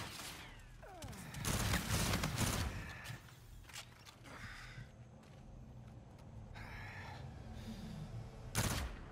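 Gunfire in a first-person shooter 1v1 match: rapid bursts of shots with mechanical clatter, loudest early on, followed by scattered quieter shots and one sharp report near the end.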